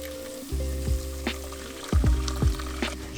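Hot water poured into a pan of sizzling vegan Albanian halva, giving a steady hiss with several sharp bursts of crackle as the liquid hits, close and fairly loud with no talking.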